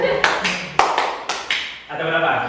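Hands clap about six times in quick pairs, close and loud with a ringing room echo, and a voice follows.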